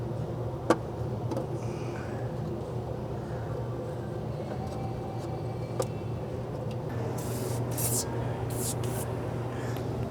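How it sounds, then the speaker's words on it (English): Sprayway glass cleaner is sprayed in a garage while a 1982 VW Vanagon intake is reassembled. Several short, sharp hissing spray bursts come near the end over a steady low background hum. "Just some sprayway glass cleaner."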